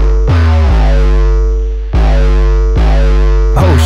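Heavily distorted deep 808 bass notes, processed through a free distortion plugin, hit three times in a row, loud and gritty, each one booming and then sustaining.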